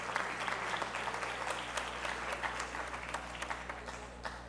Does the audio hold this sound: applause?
yes